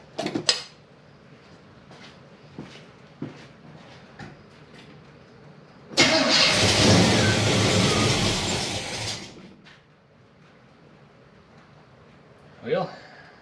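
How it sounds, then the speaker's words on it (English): A Chevelle's tired, freshly overhauled 402 engine catches and runs loudly for about three seconds in a cold setting, then dies, framed by quieter knocks and handling sounds. "So it fires up, but it dies shortly afterwards"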